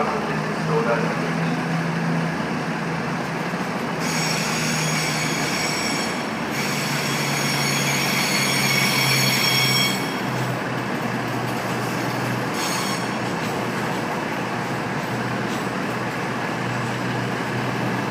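A train pulls into a platform at Birmingham New Street station, rumbling continuously with wheels squealing loudly in bursts, while a station announcement voice talks over it.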